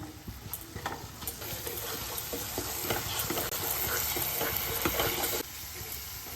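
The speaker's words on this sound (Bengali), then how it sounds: "এই মশলাটাকে আমি ভালোভাবে কষিয়ে নেব মিডিয়াম ফ্লেমে" Spice paste (masala) for doi katla, thinned with a little water and salted, sizzles and sputters steadily in a pan over a medium flame, with occasional stirring scrapes throughout and a slight drop in level near the end.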